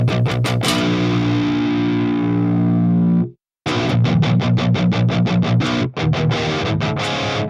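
Heavily distorted electric guitar through a PRS Archon amp model on an FM9 chugs a fast rhythmic pattern, a sustained crunchy chord ringing first, then a brief gap and tight repeated palm-muted strums.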